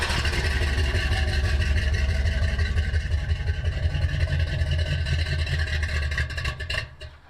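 A 1972 Oldsmobile Cutlass with a 455 V8 runs loud and close, a deep steady rumble with lumpy cold-engine pulses that eases and fades near the end.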